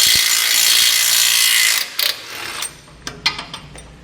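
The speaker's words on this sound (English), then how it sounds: "we're going to remove our tow hooks using a 19mm socket for the bolt furthest towards" A 19mm socket removes a tow hook bolt on a 2019 Ram 1500, a loud sustained high-pitched whir from the power tool, then scattered metallic clicks and clanks as it stops.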